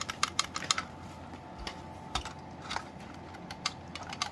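Repeated sharp plastic clicks from pressing the test button on a BRK 1839i smoke alarm, a quick irregular series of close, light taps with brief pauses between them.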